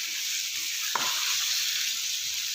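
Chicken sizzles in a pan while cooking for yakhni, a smooth, even, close frying hiss held throughout, broken once by a single brief clink or scrape near the start.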